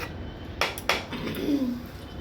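Spoons and cutlery at a restaurant table give two sharp metallic clinks close together, then a faint ringing ping, all quiet and alone against soft room background.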